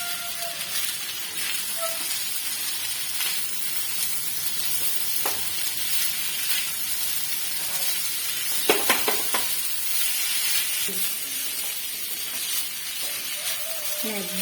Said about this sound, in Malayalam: റൈസും ഇട്ട് കഴിഞ്ഞിട്ട് നന്നായിട്ട് ഇളക്കി യോജിപ്പിച്ചെടുക്കുക.